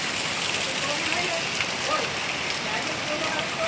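Steady rain pours during the monsoon season, a dense, continuous hiss of drops on surfaces from start to finish, loud and close with no letup.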